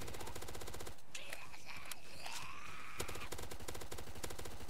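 Rapid PDW-R gunfire from the Roblox game Zombie Uprising, a dense stream of fast clicky shots under steady game noise, broken by a short pause and a whistling tone before firing resumes.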